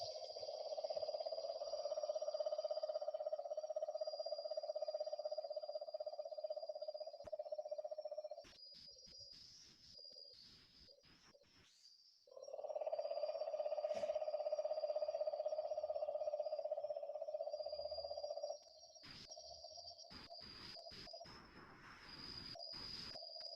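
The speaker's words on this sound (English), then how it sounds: "It was the sound of a male cane toad calling from a water body somewhere in the darkness" A steady, sustained trilling call drones on for long stretches, breaking off briefly and then resuming, against a quiet night backdrop with occasional faint insect buzzes.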